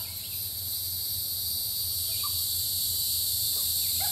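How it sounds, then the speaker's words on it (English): Tree frogs call from the forest in a dense, steady, high-pitched chorus that never stops and sounds like insect trilling, with a low steady hum underneath and no talking. "I almost need the damn microphone for the tree frogs."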